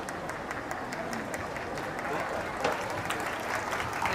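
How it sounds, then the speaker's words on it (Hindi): A large audience bursts into dense, sustained applause at a school annual day celebration, the clapping steady and loud throughout with crowd noise and some voices mixed in. "एक बार बहुत जोरदार तालियां"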